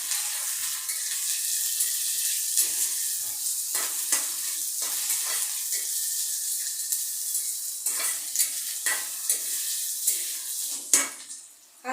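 Green chillies, garlic and onion for a jute-leaf stir fry hiss in a pan while a spatula stirs and scrapes repeatedly, a steady close sizzle punctuated by uneven clinks and a sharper knock near the end.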